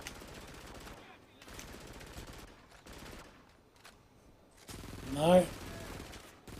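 Gunfire in the Xbox 360 shooter Frontlines Fuel of War comes in short, fairly quiet bursts spaced a second or so apart, with a speaking voice and a louder swell near the end.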